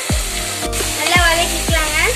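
Tomatoes with salt, coriander powder and pepper sautéing in a pressure cooker for veg pasta: a steady close sizzle broken by three or four sharp scraping strokes of a spoon against the pot.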